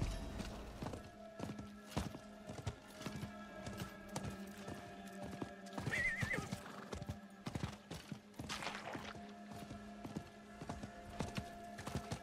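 Horse hooves clip-clop in a steady walking rhythm in the video game Diablo IV, with a brief whinny partway through, all fairly quiet and close.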